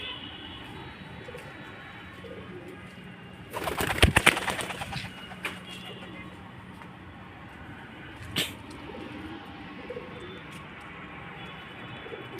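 Pigeons coo softly in a dim loft or coop, low murmuring calls under a faint steady background hum, broken by a loud burst of fluttering or rustling midway and a shorter one later.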